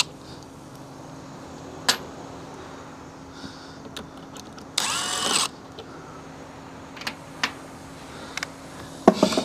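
A power drill reworks screws on outdoor HVAC conduit with one brief, close whirring burst, surrounded by scattered sharp clicks and taps in an otherwise quiet space. No one speaks.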